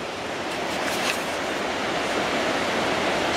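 Enlow Creek along a wooded trail, a steady broadband rush of flowing water, close and constant with no breaks.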